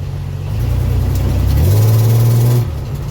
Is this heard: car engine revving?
yes